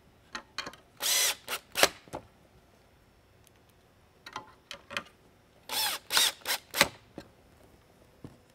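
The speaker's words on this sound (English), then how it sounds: "go ahead and also remount the four retainer screws" A power driver spins retainer screws back into a Whelen 11-inch Century Series mini lightbar, in two clusters of short whirring bursts separated by quiet handling, close and loud.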